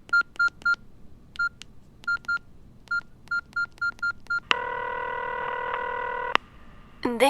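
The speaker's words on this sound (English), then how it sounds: "It was one of her friends called Lola, and I dialed." A telephone number is dialed as a string of short, evenly spaced touch-tone beeps in small groups, followed by a steady ringing tone about two seconds long, then a brief burst of sound at the end.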